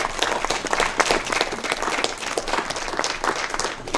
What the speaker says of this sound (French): Vous pouvez applaudir monsieur.